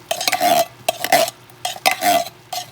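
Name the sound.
scraping gravy into the pan with a utensil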